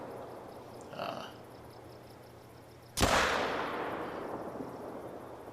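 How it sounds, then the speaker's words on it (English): A single loud AR15 rifle shot fired in the hunting video game theHunter: Call of the Wild, a sharp crack at about three seconds followed by a long rolling echo that fades slowly over ambient outdoor noise. "And we're gonna put a few shots downrange on it."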